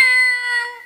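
A stage performer at a comedy Ramlila show imitates a weak cat's meow, a single thin, high, wavering tone that fades over under a second, close and clear.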